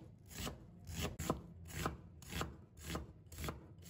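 A knife slices half an onion into thin strips on a cutting board, with regular rasping strokes roughly every half second, close and moderately loud, no voices.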